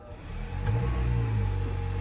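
Honda CR-Z hybrid car starting after sitting unused for a long time: a low, steady engine hum and whir that swells slightly after start and settles into a smooth idle, close and continuous with no talking.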